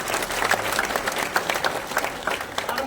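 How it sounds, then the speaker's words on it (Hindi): A crowd at an INLD-BSP alliance office inauguration claps loudly and steadily, a dense, sustained burst of applause with no speech over it. "इनके लिए बहुत जोरदार तालियां बजाओ"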